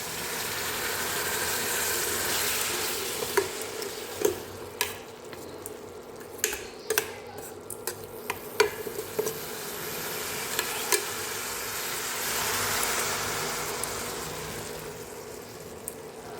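A spatula stirs and roasts cashew-pea masala with Maggi masala in a steel pan, giving a soft continuous sizzle broken by a run of sharp scraping knocks in the middle.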